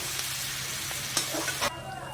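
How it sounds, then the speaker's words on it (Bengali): Potato and onion frying in oil, a dense hissing sizzle with a few stirring clinks, close and steady until the sound drops abruptly near the end. "এই আলুটার সাথে পেঁয়াজটাকে ভালো করে ভাজা ভাজা হয়ে গেলে তারপরে মশলাটা দেওয়া হবে।"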